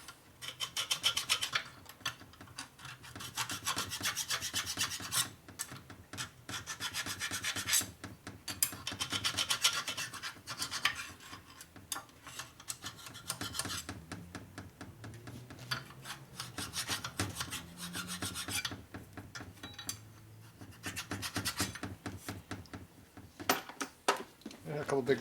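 A hand file works down a high spot on a transmission part from a 1961 Harley-Davidson Sportster XLCH, making close, rhythmic rasping strokes repeated steadily with brief pauses between passes.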